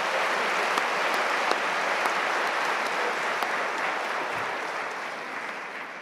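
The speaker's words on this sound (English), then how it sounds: "One more round of applause, please," An audience at a MacEwan University convocation ceremony applauds the university big band. Dense, steady clapping from a large crowd fills the whole stretch and fades slightly toward the end.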